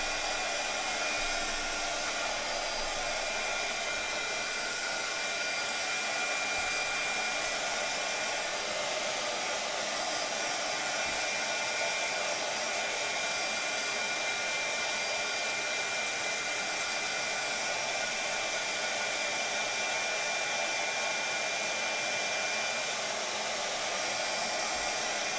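Heat tool or dryer blowing steadily to dry ink on a craft card, a loud, continuous whooshing hiss with an even motor whine that runs unbroken for the whole stretch, with no talk.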